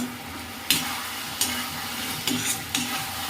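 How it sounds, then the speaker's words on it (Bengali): Tomato chutney is stirred in a pan over a soft, steady sizzle, with four distinct scraping strokes of a spoon against the pan, close and clear. "জাস্ট একটু নেড়ে চেড়ে নামিয়ে নেবো"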